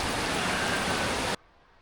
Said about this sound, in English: we're at a creek right now